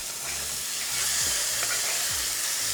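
French toast frying in a pan, a steady close sizzle with a few faint scraping stirs, no voices.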